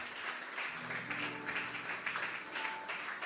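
A church congregation applauding during worship, with a dense, steady wash of clapping from many hands and some sustained singing or vocal tones underneath, fairly loud and continuous throughout.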